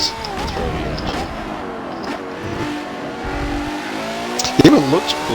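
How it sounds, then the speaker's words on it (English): A Ferrari's throaty engine revs and hums steadily with rising and falling pitch, with a sharper rev burst near the end, under continuous talk. "And it does have a nice throaty engine."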